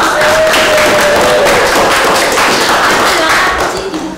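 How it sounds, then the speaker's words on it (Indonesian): A classroom group claps for presenters about to come forward, loud, close hand-clapping from many people that continues steadily and fades slightly at the end, with talk mixed in. "Beri tepuk tangan dulu untuk"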